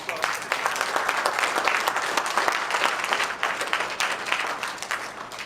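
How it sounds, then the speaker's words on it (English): Audience clapping at a university mayoral candidate forum, a steady, dense round of applause from a room of people, evenly sustained for several seconds without speech. "So I'd like to have a round of applause for all of you."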